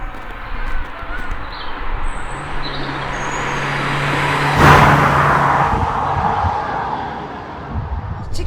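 Peugeot 309 GTI 16 engine being warmed up, a steady low engine drone that swells into a brief louder rev partway through before settling back, with road and traffic noise around it.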